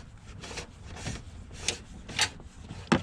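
A cable fed up inside a car fender slides and scrapes along the panel in soft, uneven rubbing bursts with a few sharper scratches, fairly quiet and close, with no talking.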